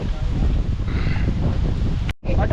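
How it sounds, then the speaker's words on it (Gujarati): Strong, constant wind sweeps a beach lined with coconut palms, buffeting the microphone with a heavy low rumble. Faint surf sits underneath, and a brief dropout occurs near the end. "એટલો જોરદાર પવન આવે છે ભાઈ પંખાની એસીની કોઈ જ જરૂર છે નહીં કન્ટિન્યુ પવન ચાલુ ને ચાલુ છે"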